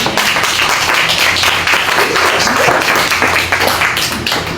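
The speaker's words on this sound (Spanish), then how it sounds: "¿Pueden darle un aplauso al Señor por la obra que Él está haciendo?" A church congregation at a Casa de Oración service in Cuernavaca claps together in a dense, steady burst of applause that stays loud and even throughout, with no voices over it.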